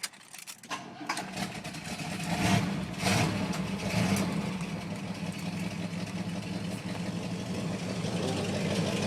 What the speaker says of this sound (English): With the exhaust being worn out, she has a bit of a turbo muffler sound to it.